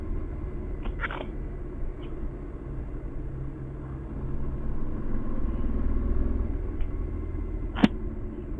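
A 2022 Triumph Tiger 1200 motorcycle engine, ridden in dynamic mode, gives a steady throaty, rasping drone that swells slightly midway, with a few brief sharp clicks over it and no talking.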